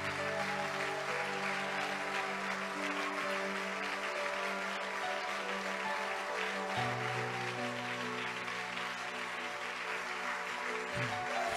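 Steady, sustained applause from a church congregation fills the space, layered over held keyboard or organ chords that shift slowly, without pause from start to end.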